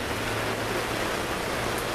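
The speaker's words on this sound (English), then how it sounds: "It's raining like crazy still." Heavy rain pours down outdoors in a dense, steady hiss that stays constant and loud throughout, with no voices.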